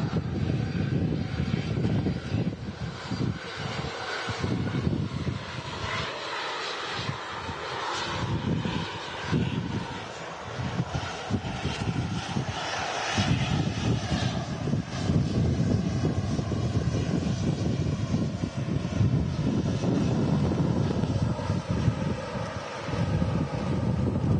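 Airbus A321 airliner on short final, landing at Manchester Airport in a storm from Istanbul; a steady loud engine roar is buffeted by heavy wind noise throughout, with no talk.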